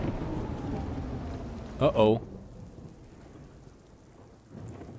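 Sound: rain and thunder in video game Death Stranding

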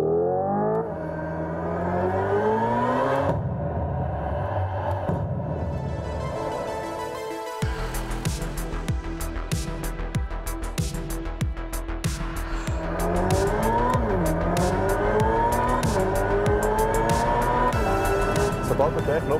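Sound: Hyundai Ioniq 5 N electric car with simulated engine sound

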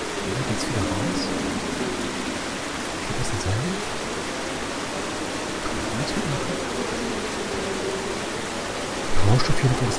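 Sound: flowing water in video game Dracula Resurrection

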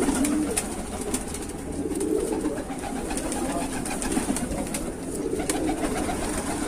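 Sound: pigeons

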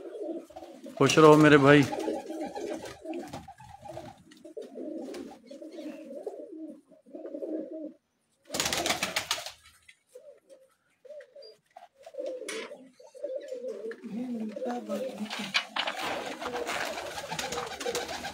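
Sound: pigeons cooing

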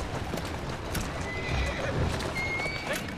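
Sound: horse neighing and hooves in video game Assassin's Creed Syndicate

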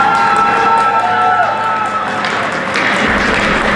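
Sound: crowd applause

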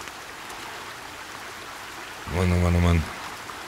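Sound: rain shower in the video game Sons of the Forest

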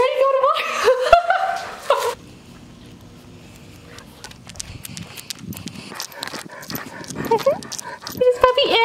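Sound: dog

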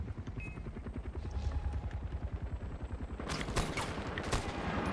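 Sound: gunshots in Far Cry video game

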